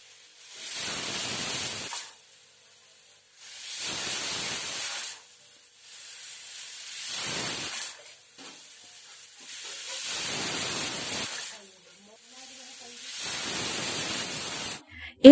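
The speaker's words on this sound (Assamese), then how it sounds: "ইফালে এয়া কুকাৰৰ চিটি বাজিবলৈ লৈছে।" A pressure cooker whistle vents steam in five separate hissing bursts, each about two seconds long with short quiet gaps between them, heard close and alone.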